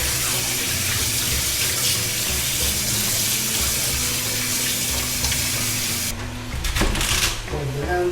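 Cold water runs steadily from a kitchen tap into a sink. A continuous loud hiss fills the sound until it shifts near the end, with a brief splash and clatter.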